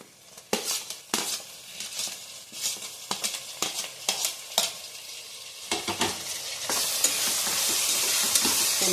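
Chopped tomatoes go into a hot pan and are stirred, first a run of sharp scraping and clinking strokes from the utensil, then a louder, continuous sizzle that swells and holds as the tomatoes hit the oil.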